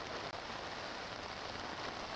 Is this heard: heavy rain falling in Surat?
yes